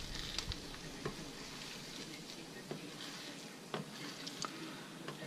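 Scrambled eggs cook in a pan with a soft, quiet sizzle, dotted by sharp little clicks and ticks from stirring.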